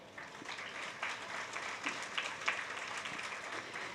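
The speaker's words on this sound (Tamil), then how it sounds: "அவர்களுக்கு நல்ல ஒரு கரகோஷம் கொடுங்க." Audience applause at a dance academy's annual day felicitation, a steady moderately quiet clapping from a seated crowd that swells and fades across the clip with scattered sharper claps, no voices over it.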